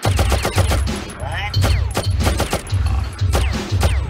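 Rapid bursts of gunfire from the video game Oddworld: Abe's Oddysee, loud repeated volleys crackling in a steady rhythm over a low pulsing game soundtrack, with no voices.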